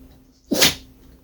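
A single sudden sneeze bursts out close by, sharp and breathy, standing alone against a quiet room.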